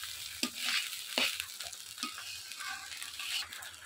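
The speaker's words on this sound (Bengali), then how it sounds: "এইভাবে একে একে ভাতগুলোকে সব ভেজে নেব।" Cooked rice sizzling and frying in a hot pan for fried rice, a steady crackle broken by sharp clinks and scrapes of a spatula stirring it.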